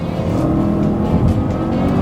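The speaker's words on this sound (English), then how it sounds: "that's pretty great acceleration" A 2017 Volvo S60 T5 sedan with a 2-liter turbo engine and 7-speed automatic accelerates hard. The engine drone is loud and sustained throughout, with no speech.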